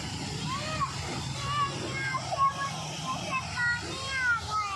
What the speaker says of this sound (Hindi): ये ऊपर से वो गिर रहा है पानी और ये नीचे आ रहा है